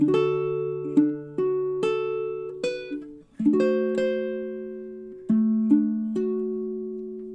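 D: Measures 10 and 11 of a song picked on a baritone ukulele: a steady run of about a dozen bright plucked notes and double stops, each ringing out, close and unaccompanied.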